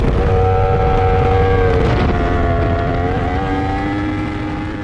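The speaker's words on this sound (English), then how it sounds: "That is an Endurance World Championship R1 being thrown through Eau Rouge and Raidillon" An Endurance World Championship Yamaha R1 racing motorcycle howls through Eau Rouge and Raidillon at Spa-Francorchamps, a loud, sustained high-revving engine scream that shifts pitch as it passes, with no talk.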